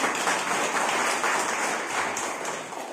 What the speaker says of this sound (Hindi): तो भाई एक बार बहनों के लिए एक बार जोरदार ताली बजा दें